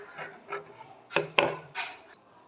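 Scissors cutting through saree blouse fabric along a marked two-inch line, giving a few short crisp snips and rasping strokes close by, with no talking.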